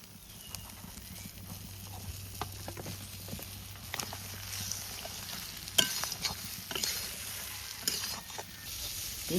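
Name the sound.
mutton frying and being stirred in spices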